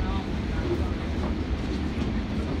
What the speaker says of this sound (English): we're on the tram line